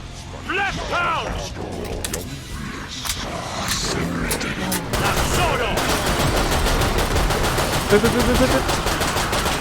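Rapid game gunfire from Killing Floor 2 rattles in dense bursts with mechanical weapon clatter, growing heavier and more continuous in the second half, with a voice talking now and then over the shooting.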